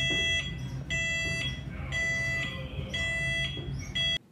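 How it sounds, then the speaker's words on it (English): A ship's watertight door, closed from a remote location, sounds its mandated audible alarm: a loud, close electronic tone pulsing in regular bursts about twice a second over a low machinery hum. "The time of closure should be noted, as well as the mandated audible alarm, since the door is being closed from a remote location."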